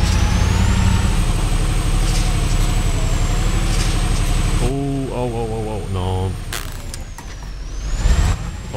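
A heavy truck engine in the off-road driving game Spintires rumbles loudly and steadily at close range, with hissing and mechanical clatter on top, and someone talks over part of it.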